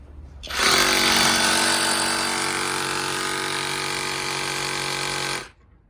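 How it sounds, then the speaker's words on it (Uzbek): A cordless rotary hammer drill starts up, whines in a loud, steady drone for about five seconds, then cuts off abruptly. "birinchi bo'lib perforatorimizdan boshlaydigan bo'lsak"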